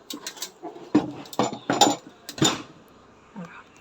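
A new gas stove being flipped over and handled, giving a string of close metallic clunks, clatters and knocks of uneven spacing, with a faint softer thud near the end.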